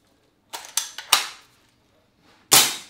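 An airsoft Dragunov SVDS sniper rifle, spring-powered and cocked by hand, is handled with a few sharp clicks and clacks, then fires a single crisp snapping shot near the end.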